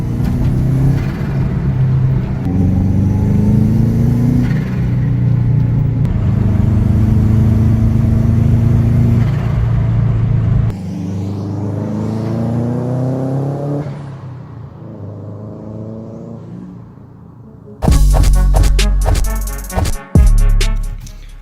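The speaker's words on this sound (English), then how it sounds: "how to get your Subaru to flutter just like this" A turbocharged Subaru revs and accelerates with a loud, steady engine drone that climbs in pitch through the gears, then lifts off into a sharp, choppy turbo flutter near the end.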